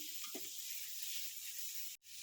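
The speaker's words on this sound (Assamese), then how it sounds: "পানীখিনি ওলাই শেষ হোৱালৈ এনেকৈ আমি অলপ সময় ভাজি থাকিম।" Cauliflower leaves frying in a pan give off a steady, close hiss of sizzling that runs throughout and cuts out abruptly near the end.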